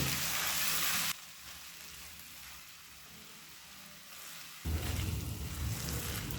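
Rice grains frying on high flame in a pan for white pulao with ghee, a steady broadband sizzle that drops softer in the middle and swells louder again toward the end, with no voices.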